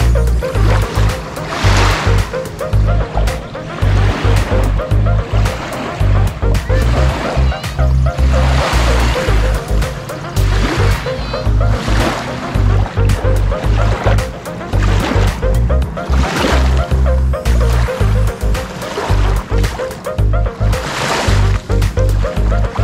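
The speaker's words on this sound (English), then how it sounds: "Waves are lapping against the shore thanks to the power boats and jet skis." Waves stirred up by power boats and jet skis lap and slosh steadily against the shore of Lake Anna, Virginia. The water rolls on continuously at close range while a voice talks over it.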